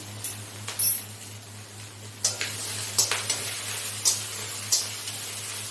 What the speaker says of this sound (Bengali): দিয়ে এটাকে আমি ভালোভাবে ভেজে নেব।